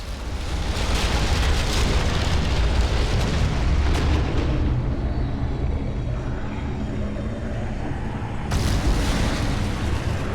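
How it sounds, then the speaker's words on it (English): A loud explosion in the video game Telltale's The Walking Dead, a sustained roaring blast that rumbles heavily for several seconds, eases off, then surges again near the end. "the extremely loud explosion over there"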